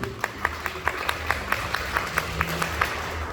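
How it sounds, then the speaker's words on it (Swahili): A church congregation claps in a steady, even rhythm during a service, many hands striking together at a brisk pace in a reverberant room. "Pigeni Bwana makofi mazuri."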